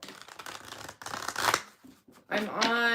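Tarot cards being shuffled in a live reading, a run of riffling bursts through the first half, then a speaking voice takes over near the end.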